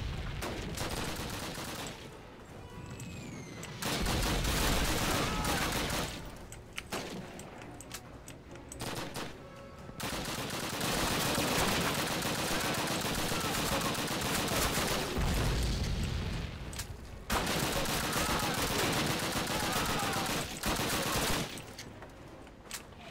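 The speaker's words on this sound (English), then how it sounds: "There's so many people I'm shooting." Gunfire in the video game Call of Duty, dense bursts of rifle and machine-gun shots crackling loudly in rapid volleys, broken by brief quieter gaps before the shooting resumes.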